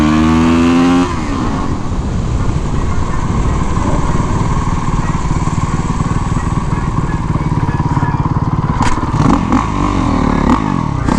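A motorcycle revs loudly and steadily close by while the rider performs a stoppie with a front brake stab, the engine roaring continuously throughout with brief sharper bursts near the end.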